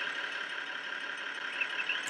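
Tractor engine idling in Farming Simulator 2013, a steady, even mid-pitched hum held at constant level throughout with no change in revs.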